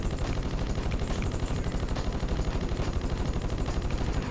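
Rapid machine gun fire from the Ratchet and Clank video game, a dense, continuous stream of loud shots that holds steady for the whole stretch with no voices.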